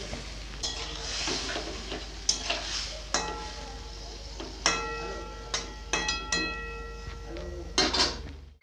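Fried cauliflower and marinated prawns go into hot oil in a wok. A soft, steady sizzle sits under repeated clinks and scrapes of a metal spoon against the pan, spaced every second or so, with no talking.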